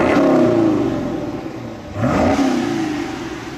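A Ford Mustang GT V8 revs hard while parked, two loud rising blips climbing to about 4,000 RPM, the second after a brief dip, its rumble sweeping up close and unaccompanied.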